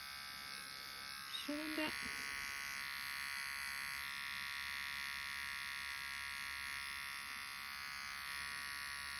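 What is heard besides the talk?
electric clipper trimming hair around dog's paw pads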